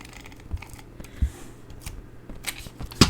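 A small tape runner applying adhesive for card making gives quiet, close clicks and brief scratchy pulls in a few scattered bursts, ending with a sharper snap.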